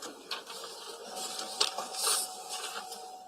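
A printer in a courtroom printing out an exhibit, a close mechanical whir with rhythmic clicks and feed strokes running throughout, with no talk over it.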